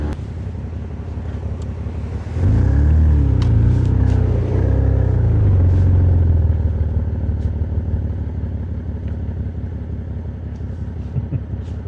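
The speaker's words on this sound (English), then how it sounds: "That is the first drive of the Porsche 987 Boxster" A Porsche 987 Boxster driving near Windsor Castle, its engine and road noise a steady low rumble with wind buffeting, swelling louder after a couple of seconds and then easing off.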